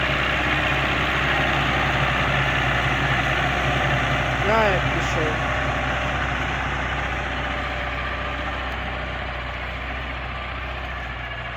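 A YuMZ-6 tractor with a D240 diesel engine runs at a steady idle, a loud low, even chugging drone throughout, with someone speaking briefly over it.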